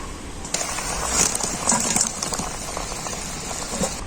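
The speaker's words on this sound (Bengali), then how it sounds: "ঝোলটা খুব ভালোভাবে ফুটে গেছে" Curry gravy with fried coriander-leaf fuluri fritters boiling in a pot, a steady close bubbling patter with small pops, alone without voices.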